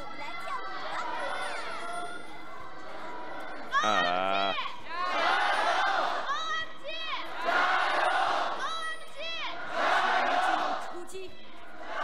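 Crowd at a League of Legends LPL esports arena match between FunPlus Phoenix and Oh My God cheers and roars in loud waves, with a shrill rising burst near the middle, steady and close throughout.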